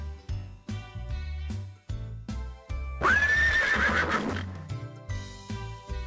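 A horse neighs loudly in a long, shrill whinny over steady background music, standing out clearly for about a second before fading back beneath the music.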